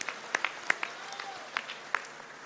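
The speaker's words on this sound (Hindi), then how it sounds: "हम तालियां बजा के हम सब किसानों का स्वागत करें।" At a large farmers' gathering in Raisen, scattered applause from a crowd welcomes the farmers. The claps come thin and sparse, fairly faint and distant, as isolated hand strikes over a quiet hall.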